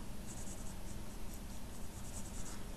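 A pencil drawing a futuristic rifle on paper makes a continuous, close, dry scratching with small shifts in pressure and no pauses, alone and without talk.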